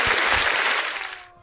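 A short round of clapping from a small group on an entertainment talk show, a dense, hissy patter that holds steady before stopping abruptly, with no voices over it.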